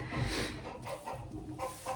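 Chickens cluck close by at a backyard rabbit enclosure, a few short, soft bursts of fowl chatter rising and falling over a couple of seconds.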